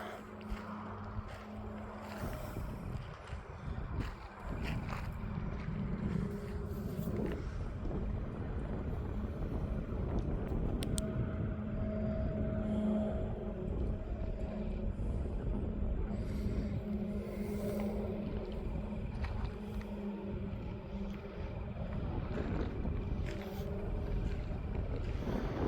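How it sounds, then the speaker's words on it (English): Steady wind gusting outdoors at a remote Montana campsite, a loud continuous rush and buffeting against the microphone that builds after a few seconds and stays strong throughout. "And of course the wind picks up."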